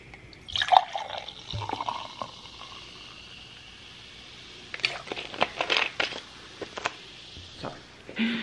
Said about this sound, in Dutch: Ik ga even drinken schenken en dan ga ik verder vertellen.